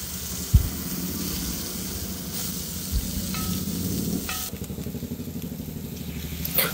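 Boiled goat intestine frying with plenty of pepper in a pan, a steady close sizzle with stirring and occasional scraping knocks, continuous and without talk.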